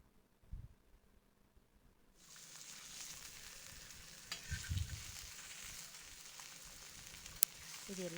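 Fish fries in oil. After a quiet opening with a brief knock, a steady sizzle starts and holds, with a few clatters and scrapes partway through and a sharp click near the end.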